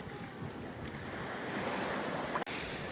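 Sea waves wash onto the shore at Odesa on the Black Sea, a steady broadband surf roar with wind buffeting the microphone and one brief sharp dropout near the end.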